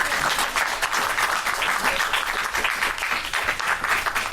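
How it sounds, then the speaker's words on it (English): Sustained, lively applause from an audience for a panel at PAX West 2019, steady and fairly loud throughout. "give our wonderful panelists a round of applause"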